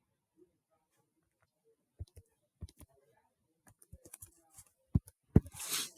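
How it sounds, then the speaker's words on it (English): Scattered clicks of fingers pressing calculator keys come in short irregular bursts, quiet and close, spaced by pauses, ending in a faint rustle. "And then this is the part I'll type that into my calculator."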